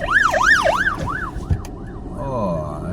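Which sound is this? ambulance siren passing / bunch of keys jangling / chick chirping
ambulance siren passing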